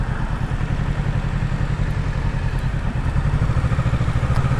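A 2023 Kawasaki motorcycle engine drones steadily while riding on a day trip, a constant loud low rumble with throbbing pulses and wind noise, heard close from the rider's seat without talk.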